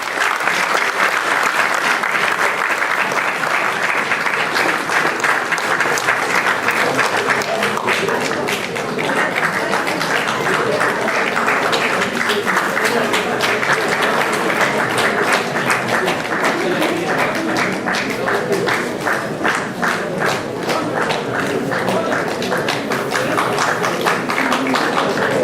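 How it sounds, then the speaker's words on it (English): An audience applauds with dense, sustained clapping that stays steady and loud the whole time. "Give him a big round of applause."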